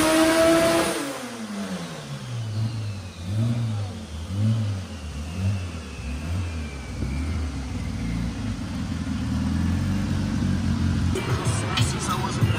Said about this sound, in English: So we're just going to lighten the boost up, make a pull in third gear real quick.